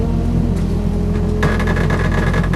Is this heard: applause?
no